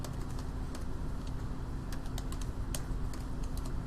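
Rapid keystrokes on a computer keyboard while entering Python code, a steady run of light clicks over a constant low hum, no voices.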